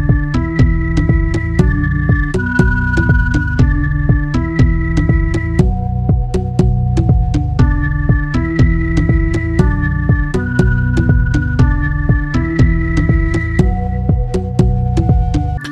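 Dub-style electronic sequence played on a Native Instruments Maschine using the Higher Place expansion, with filter, bite and reverb effects: a steady looping groove of heavy bass and repeating chordal stabs that shifts between patterns, loud and continuous.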